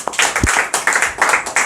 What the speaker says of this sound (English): Guys, clap for him.